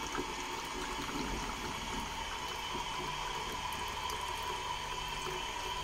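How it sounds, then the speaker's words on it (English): Used film fixer trickles and gurgles steadily at a low level as it is poured back into a bottle, a continuous thin pouring with faint background hum and no voices. "We'll just pour that back in the bottle here."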